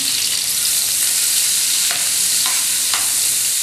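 Onions sautéing in a pan for a chicken dish, giving a loud, even sizzle close up with a few soft stirring scrapes and no talking.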